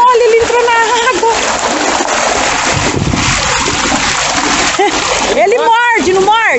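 A dog jumps into the sea and swims near Ilha de Cataguás in Angra, with loud, continuous splashing and sloshing of water up close while people talk throughout.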